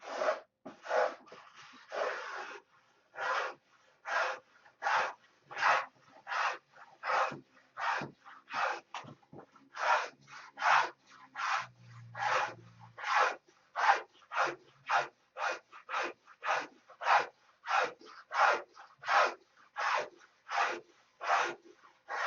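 Hand tool rasping wood while carving and hollowing a small wooden tobacco pipe, a long series of regular scraping strokes, about one per second, close and fairly quiet with no talk.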